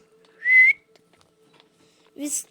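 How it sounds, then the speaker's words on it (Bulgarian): A person whistles one short, clear note that slides upward, close and fairly loud, over a faint steady hum; after a pause a brief burst of voice-like sound follows near the end. "Да, свиркай."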